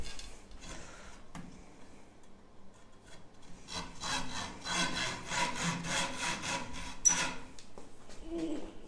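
A hand saw cuts wood while a shoe brush and boot jack are being made. Faint, irregular strokes give way to a faster, steady run of rasping back-and-forth strokes, close but fairly quiet, with no talking.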